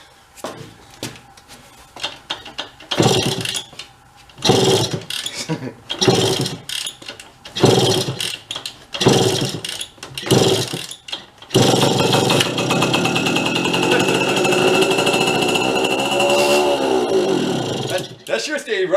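A busted vintage mini bike resembling a Honda 50 is pull-started several times with choppy mechanical bursts, then its small engine catches and runs loud and steady with a rising and falling buzz, while someone talks over the early attempts.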